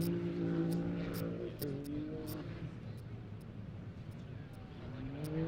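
A Can-Am UTV racing downhill during qualifying in Johnson Valley, California, engine drone rising and falling with shifting pitch, heard at a distance under commentary.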